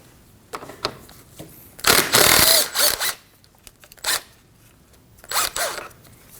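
Loosening 10 mm bolts beside the intercooler of a 2015-2024 Ford Edge 2.0L, with short bursts of ratcheting and a power-tool whir, one longer spin then several brief ones, close and loud with no talk.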